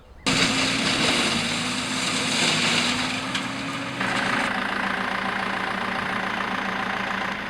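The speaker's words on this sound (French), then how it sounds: "la machine tire tout le sarment à notre place" A vine shoot pulling machine runs in a vineyard in Touraine, its engine droning steadily and loudly nearby with a low hum that shifts in pitch partway through.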